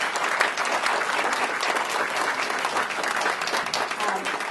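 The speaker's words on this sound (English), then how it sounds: "Let's give our panelists a round of applause." Audience applause for a panel at a Johnson County educational options event, a thick continuous wash of many hands clapping throughout, loud and sustained with no break.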